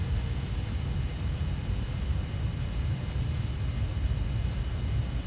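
A Boeing 747-400 rolls out after landing in Flight Simulator X with its thrust reversers running, a steady loud jet roar and low rumble that holds evenly throughout with no voices.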